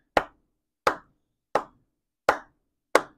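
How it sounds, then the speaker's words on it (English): Hands clapping five times at a steady, even pace, each clap sharp and close and separated by brief silence, with no talking. "if I'm clapping my hands, it would sound something like this"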